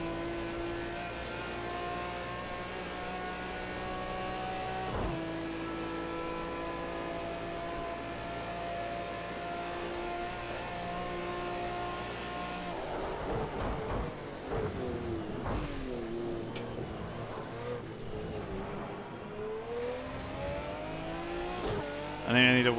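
Race car engine droning steadily at Monza in Project CARS 2, loud and continuous with gear shifts and revs rising and falling, turning rougher and more varied partway through as the car bounces down the start-finish straight.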